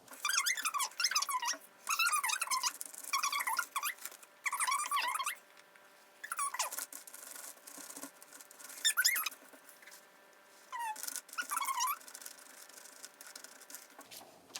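Quiet, bristly swishing strokes of a paintbrush on a used shopping bag repeat in short bursts with squeaky edges, close up and unaccompanied by talk.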